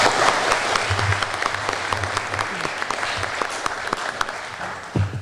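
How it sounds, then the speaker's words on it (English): Sustained clapping from the audience at a county candidates forum, a dense, even applause lasting several seconds with a low hum underneath and faint crowd murmur. "Let's get a big round of applause."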